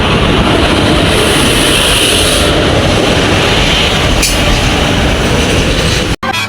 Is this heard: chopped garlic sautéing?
no